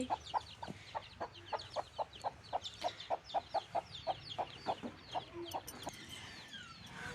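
Hens and a rooster cluck in a steady run of short, rhythmic calls at a home in the morning, close and fairly loud, with faint birdsong chirps in the background.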